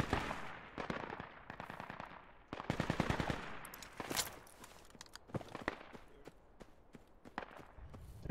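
Rapid bursts of video game gunfire crackle in a tactical squad shooter, sharp automatic volleys and single shots repeating at mid distance, some louder cracks near the middle, with no voices over them.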